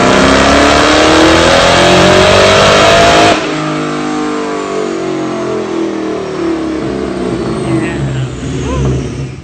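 A 2003 Ford Cobra Terminator with a TVS 2.65L supercharger and Borla Stinger exhaust pulls hard, its loud engine note climbing steadily through the revs, then shifting and climbing again up close.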